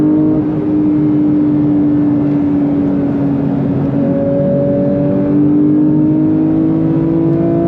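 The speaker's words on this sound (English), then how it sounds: "Nothing like full throttle shifts in the GT3" A 2022 Porsche 911 GT3 Touring (992) accelerates at full throttle, its loud, close engine note climbing steadily, with quick gear shifts breaking the rising tone partway through.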